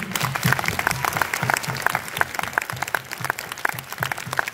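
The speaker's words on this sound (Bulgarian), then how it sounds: "Аплодисменти за нейният огромен труд." A concert audience at an anniversary concert in Stara Zagora breaks into continuous applause, dense rhythmic clapping that stays close and steady throughout, with a few voices faintly underneath.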